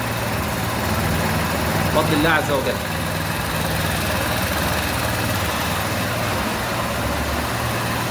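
A scooter engine idles after a top-end overhaul, running steadily with a low, even hum from start to finish. Someone speaks briefly over it near the start.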